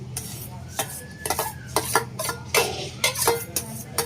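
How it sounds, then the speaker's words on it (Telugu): Chopped onions and green chillies tipped into a pan for a prawn and gongura curry, sharp metal clinks and scrapes of a spoon against the pan over a low sizzle. "తరిగేసుకున్న ఉల్లిపాయలు, పచ్చిమిరపకాయలు వేసేసుకుందాం"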